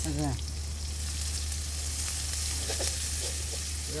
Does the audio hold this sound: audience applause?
no